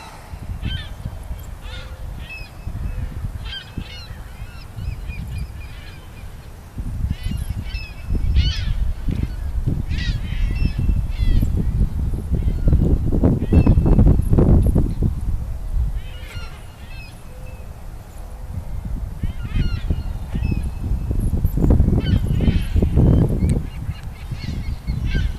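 A flock of seagulls calls in a noisy chorus of honking, squawking cries, some near and loud, others farther off, with rustling and wind noise underneath.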